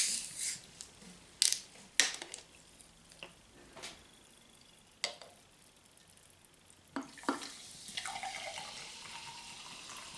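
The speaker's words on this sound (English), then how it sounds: "I'll have a sip of my mineral water." Mineral water is poured into a glass for a sip at a meal of chicken and black summer truffles. Scattered soft clicks and taps of tableware lead into a short, close pouring stream near the end, with no talking.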